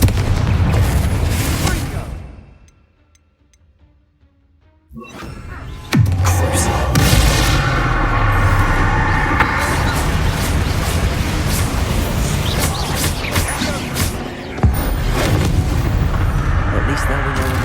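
A Confringo explosive spell goes off in Hogwarts Legacy, a loud booming blast that follows a short near-silent lull, with crackling, rumbling debris and game sounds continuing afterward.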